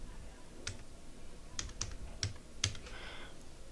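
A computer keyboard is tapped in a short, faint burst of scattered keystrokes, a handful of distinct clicks against quiet room noise.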